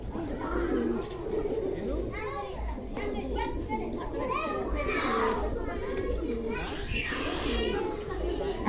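Pigeons of several breeds, kept alongside rabbits, coo among a busy scene where children play and talk loudly the whole time, the birds' calls rising now and then above the chatter.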